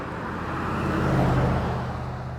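At night, a car with only one working headlight drives past on a street, its tire and engine rumble swelling to a peak midway and then fading, with no one speaking.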